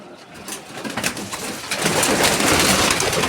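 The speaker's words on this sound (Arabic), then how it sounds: "بص كده، بص عند الحمام" Pigeons of mixed breeds coo close by at their feeding spot, soft throaty calls overlapping in a continuous, fairly loud chorus with no talking.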